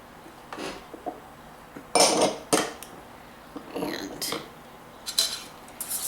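A spoon scraping and clinking against a pan while brown sugar is stirred into milk, producing a handful of sharp, uneven metallic knocks up close, with a voice talking faintly in places.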